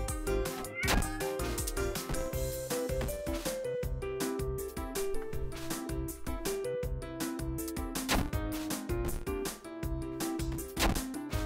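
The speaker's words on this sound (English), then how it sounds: "I hope you like cat noises." A cat meows in the video game Catlateral Damage, set in a supermarket, with the cries sitting over dense, continuous game music at a steady moderate level.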